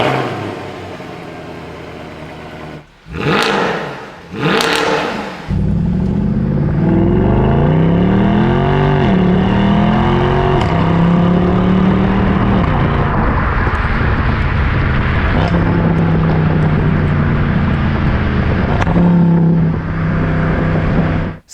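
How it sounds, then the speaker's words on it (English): Mercedes-AMG engine, either the supercharged M113K or the M156 V8, blipping twice with sharp revs, then held at loud sustained high revs with rising and falling pitch through several pulls, close and alone with no talk. "it makes the best exhaust sound there is out there"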